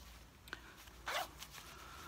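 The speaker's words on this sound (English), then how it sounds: "So we're gonna unzip it." A pocket zipper on a Sitka Ascent Optifade Subalpine hunting vest is opened close by: a faint tick, then one quick rasping zip, followed by a few softer fabric rustles in a quiet room.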